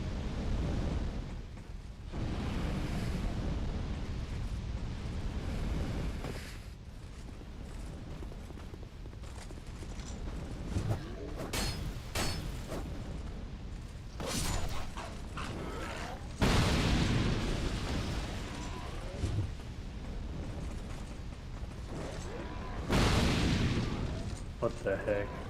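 Bomb explosions in a video game boom repeatedly over continuous game noise and music, with several louder bursts standing out.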